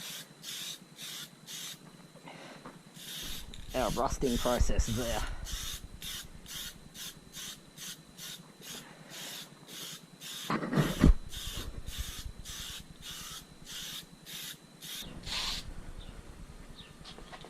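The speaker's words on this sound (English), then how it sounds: "satin acrylic clear coat. Just going to give it a light spray to hold" Repeated short hissing bursts from an aerosol can of satin acrylic clear coat sprayed onto a motorcycle fuel tank, in a quick, even rhythm, with brief speech partway through.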